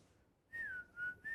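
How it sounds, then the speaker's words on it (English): A person whistles as a breathing exercise, three short sliding tones in a row, clear and close with quiet pauses between them. "I'm practicing the whistling."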